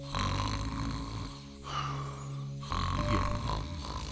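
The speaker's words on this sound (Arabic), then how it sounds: "حتى وهو نائم يشخر" A cartoon man snores in his sleep, two long rasping snores with a quieter breath between, loud and close, with a brief voiced sound.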